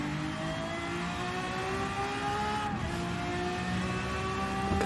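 A Lambo V12 VGT race car accelerating hard in a racing video game at Circuit de Sainte-Croix, a steady, loud, high-pitched engine whine that holds and climbs smoothly without a break.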